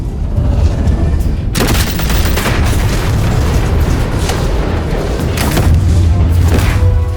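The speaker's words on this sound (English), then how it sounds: "A little bit of AK action." AK rifle gunfire in a Batman video game, a loud sustained stretch of booming shots and blasts that keeps going nearly without a break.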